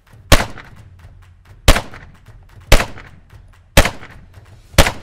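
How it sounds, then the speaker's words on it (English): Five loud handgun shots from a stable shooting stance ring out at an unhurried, fairly even pace, each crack decaying quickly with no talking between. "5 shots, no time pressure."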